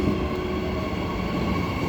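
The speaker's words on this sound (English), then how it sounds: "Butler service arriving on platform 2, front 3 cars, EMU 88" A Butler-service electric multiple-unit train pulls into Currambine station platform, a continuous mechanical hum and rumble of wheels and motors held at a steady level, with no talk.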